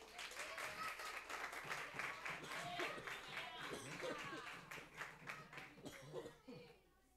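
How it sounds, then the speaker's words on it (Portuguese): A church congregation bursts into sustained clapping that carries on with voices mixed in, then thins and fades out near the end. "Vamos aplaudir a Jesus por isso."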